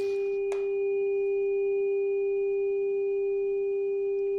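A 396 Hz tuning fork, played from a recording, sounds a clear and unwavering pure tone that holds steady throughout. A brief soft knock comes near the start, and no voices are heard.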